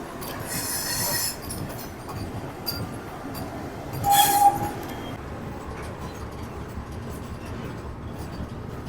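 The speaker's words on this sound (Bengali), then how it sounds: "আমাদের ট্রেন এসে পৌঁছেছে বিজয়নগরম জংশন" The weekly Chennai–Shalimar superfast express, train 22826, rolls into Vizianagaram junction with a steady rumble of wheels on rails, broken by two loud bursts of shrill wheel squeal from the brakes as it slows.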